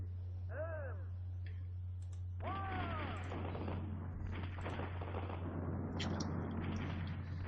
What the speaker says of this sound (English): you fire the cannons or the cannonballs by basically just jamming down on the A button